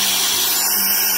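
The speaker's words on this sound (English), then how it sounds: "And Hardy's a-drilling" A power drill runs during a bus conversion build, giving a loud, steady, close-up mechanical whir that holds unbroken throughout the short stretch, with no speech.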